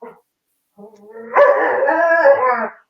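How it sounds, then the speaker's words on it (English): A dog howling, a brief yelp then a rising drawn-out wavering howl lasting over a second, close and clear with no talk. "You take your dog out or what?"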